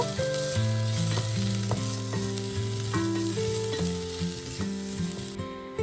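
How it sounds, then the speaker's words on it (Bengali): Ginger, garlic and chili frying with spices in a pan for a pineapple curry, a steady sizzle running the whole time beneath loud melodic background music. "এবার মশলাটা একটু ভালো করে ভেজে নেব।"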